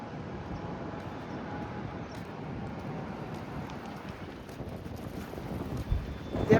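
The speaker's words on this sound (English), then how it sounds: "Oh man, it's windy today, man." Strong wind blows across a construction site in a steady, moderate rushing rumble that picks up into louder gusts near the end, with no talking.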